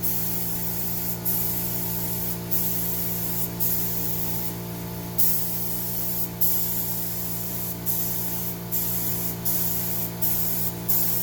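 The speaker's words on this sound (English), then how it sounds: "Alright, now for my 4th coat, it'll be a little bit slower pass, so I'm kind of building the film up a little bit more." A spray gun lays a coat of paint onto boat panels for a pontoon boat restoration, close and loud steady hissing in repeated passes with brief pauses between strokes over a constant hum.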